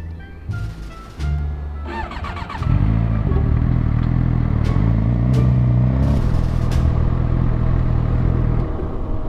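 Motorcycle engine running with no coolant, a loud steady close rumble that grows heavier after a few seconds and holds with faint mechanical clatter, no talk over it.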